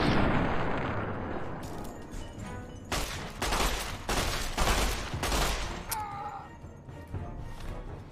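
Rapid bursts of pistol fire from a Chinese pistol in the game Fallout: Tale of Two Wastelands, a run of sharp shots in quick succession over a dense rumbling game background, loud and close.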